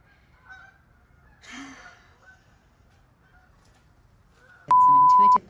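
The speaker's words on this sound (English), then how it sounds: "the geese again" Geese honk in a short loud burst near the end, following a quieter, faint honking call earlier over low background rumble.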